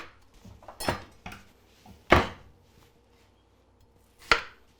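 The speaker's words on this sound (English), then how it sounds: "Now we need to start cutting up some of our vegetables." A knife chops yellow onion for a breakfast hash on a cutting board, giving three sharp, close thuds at uneven intervals with quieter taps and rustles between them.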